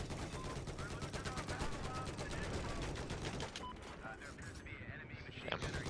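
Sustained gunfire in Battlefield 4 on PC, dense rapid automatic bursts rattling continuously for most of the stretch, loud and close, thinning out near the end amid other battle noise.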